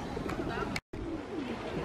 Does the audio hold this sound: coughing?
no